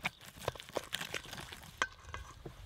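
Fresh kimchi (geotjeori) seasoning with a little sugar being mixed by hand, soft wet squelching and stirring noises in an irregular rhythm, close and fairly quiet with no talking.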